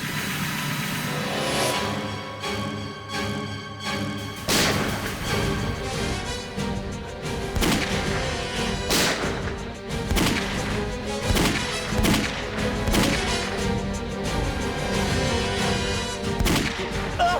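Gunshots from a scene in the Indian TV series CID: sharp bangs and cracks ring out repeatedly over a dense, loud action soundtrack with engine-like rumble throughout.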